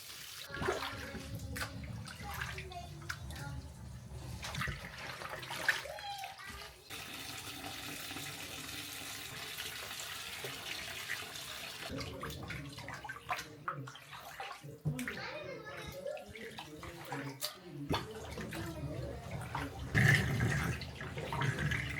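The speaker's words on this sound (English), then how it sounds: "I kind of washed again the wool, and I even used a little bit of soap to just really get the wool as clean as I could" Water runs and splashes steadily as sheepskin wool is rinsed, with some soap used to clean it. A continuous tub-like gush with sloshing and dripping fills the scene, and a few faint voices come through.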